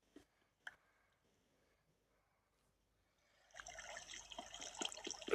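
Flowing water in a modded Minecraft survival game, a steady rushing trickle that rises after a few seconds of near silence with a couple of faint clicks, growing louder toward the end.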